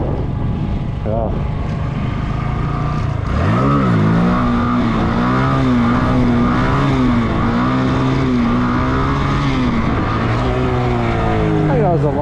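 A motorcycle engine held at steady revs through a long wheelie, loud and close, its pitch rising and wavering as the throttle shifts, with a continuous roar throughout.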